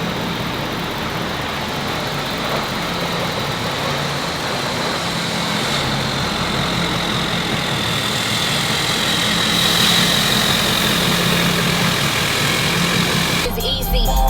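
A truck's diesel engine idles after startup at a diesel shop, a steady low rumble that grows slightly louder toward the end, ending with a sharp clatter.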